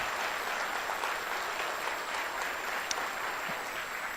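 A church congregation claps together in sustained, even applause that fills the room at a steady level for a few seconds, with no voices over it.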